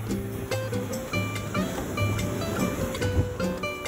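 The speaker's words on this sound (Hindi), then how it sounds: "बहुत बड़ी बड़ी लहरें" Large sea waves rolling onto the beach at Dhanushkodi, a steady dense roar of surf and wind noise filling the whole stretch, close and loud, with no speech.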